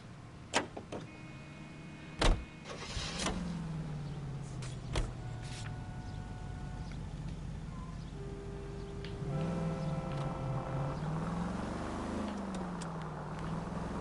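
A gold car being driven in the 1940s Los Angeles crime game L.A. Noire, a steady low engine hum with gear-like pitch swells, mixed with a few sharp clicks and interface tones.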